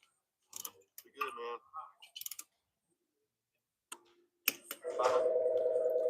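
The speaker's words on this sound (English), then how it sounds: "Cell phone." A cell phone rings in a V-twin motorcycle shop. The sustained ringtone starts near the end after scattered clicks, knocks and brief voices, and is loud and close.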